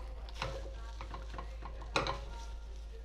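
Cooked pasta tossed and stirred with butter in a pan, giving soft scraping and stirring sounds with a light sizzle and a sharper clink near the middle, close up with no talking.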